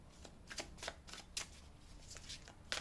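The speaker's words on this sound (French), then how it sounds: "je vais recouvrir l'arcane 16 pour voir" Tarot cards handled during a reading, a quick series of soft papery flicks and snaps as a card is turned over, close and quiet, with no talking.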